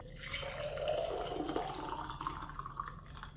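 Hot water runs from a tap to make a drink, a steady close gush and splash that rises in pitch slightly as it fills, with no talking.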